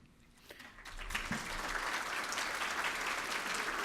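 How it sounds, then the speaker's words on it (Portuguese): Applause from a seminar audience thanking an economics panel, rising from quiet after a faint opening into a steady, dense wash of clapping that fills the room without any talk. "é com carinho desse aplauso que nós, em nome da organização geral deste evento, reiteramos os agradecimentos aos integrantes deste painel"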